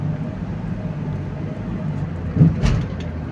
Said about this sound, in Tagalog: Sobrang traffic sa Skyway mga ka-secret.